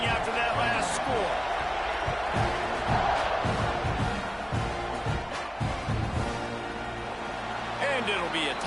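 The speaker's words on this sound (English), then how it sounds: "this crowd is buzzing after that last score" A football stadium crowd buzzes after a score, a dense, continuous roar with scattered shouts and whoops, while a commentator talks over it.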